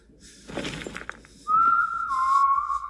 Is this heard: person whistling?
yes